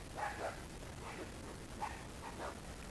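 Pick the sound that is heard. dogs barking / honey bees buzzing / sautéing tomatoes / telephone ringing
dogs barking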